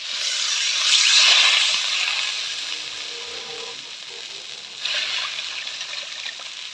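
Water is poured into a fried spice masala for a fresh grass carp fish curry, giving a loud rushing hiss that swells early, eases, then surges again briefly near the end.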